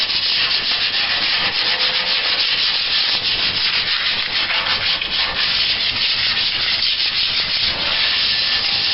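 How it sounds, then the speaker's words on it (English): Continuous abrasive scuffing on the bent bumper of a 1975 Dodge, a steady, close, rasping sanding sound that carries on for the whole stretch with no talking. "we're going to scuff this up a little bit. Just a light scuff."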